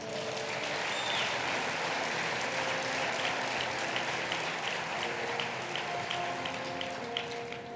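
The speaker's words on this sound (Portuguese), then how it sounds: "Pode aplaudir o Senhor, mano." A church congregation claps in a steady, moderately faint wash of applause that carries on for several seconds, with a few brief tones rising faintly above it.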